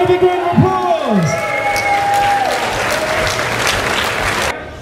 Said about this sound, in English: ladies and gentlemen, please give Stephen a big round of applause